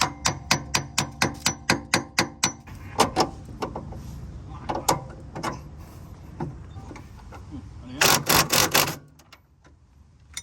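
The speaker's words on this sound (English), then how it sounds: "hammer this fork back in, put the bolts back in" A hammer drives a suspension fork back in while Honda EK Civic coilovers are installed, close sharp metallic blows in a steady rhythm at first, then irregular strikes and a fast final burst.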